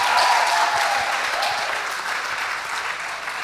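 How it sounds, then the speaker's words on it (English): An audience at a school debate between Moi Forces Academy and Kenya High School applauds the winners, a dense, steady clapping crowd that stays loud throughout and tapers slightly toward the end. "Please give them a round of applause."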